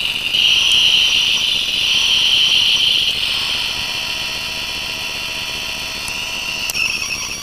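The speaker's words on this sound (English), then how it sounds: "it makes the rev up noise like most engine cells make" Power Rangers Moto-Morph rev morpher toy giving its electronic rev-up effect, a loud steady whining engine tone with high buzzy overtones that shifts pitch partway through and runs continuously with no talking.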